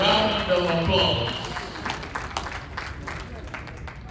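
Audience applause at a convention held at a casino hotel suite, a dense wash of clapping that is loudest at the start and then thins and fades, with a few sharper claps near the end.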